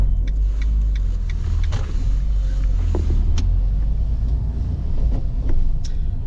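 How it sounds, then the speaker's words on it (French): A 2019 Fiat Panda 1.2-litre 69-horsepower engine runs at a steady, loud low rumble, close by, with a few faint clicks and knocks over the constant drone. "la première chose qu'on constate avec cette voiture quand on la met en route, c'est le niveau sonore assez élevé"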